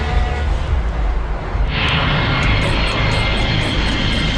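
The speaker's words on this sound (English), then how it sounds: "It starts with a supersonic flight on Concorde to New York." A Concorde supersonic jet airliner in flight, a loud continuous roar of jet engines that swells to a broader rushing noise partway through, with no talk.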